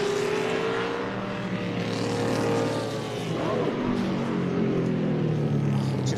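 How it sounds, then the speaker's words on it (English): A stock race car engine revs and drops through gears into a corner, its harmonic whine falling and rising steadily under a continuous loud drone, with other engine tones mixed in. "It just sounds so good. Downshifting the thing into the corner."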